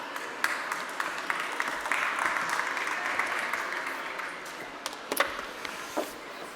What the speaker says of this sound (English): Ladies and gentlemen, I would like a huge applause for Noam Manella.